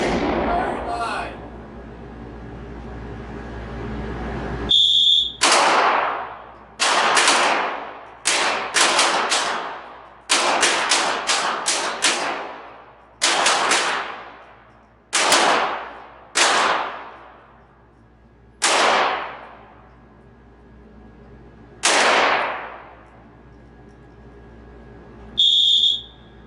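.22 pistol shots fired on a range during a bullseye match, about a dozen loud sharp cracks with ringing decay spaced several seconds apart, with whistle blasts at the start and end.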